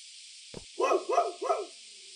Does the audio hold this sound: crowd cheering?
no